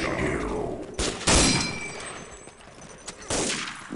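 Bursts of gunfire in the online shooter Day of Defeat, several loud close shots and a short rattling volley, with rough recoil-heavy cracks spaced unevenly across a few seconds.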